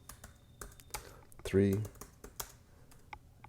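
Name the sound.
typing on a computer keyboard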